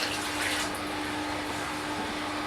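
Water poured out while preparing a juicer smoothie, a steady close rushing splash that holds at an even level throughout.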